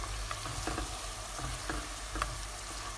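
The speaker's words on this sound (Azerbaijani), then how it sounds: "Soğanımız burada qəşəng qovrulur." Onions frying in butter in a pan, a dense continuous sizzle with soft stirring scrapes and scattered light pops, close and steady throughout.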